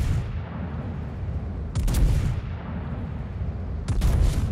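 Heavy ship guns fire in a World of Warships naval battle: two loud, booming salvos about two seconds apart, each with a rolling tail, over a steady low rumble of engine and sea noise.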